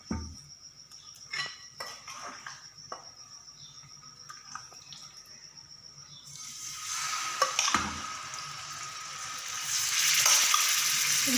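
Chicken sizzles and fries in hot oil, starting with scattered clinks and pops before swelling into a loud, dense crackle as the pan heats up; no one speaks.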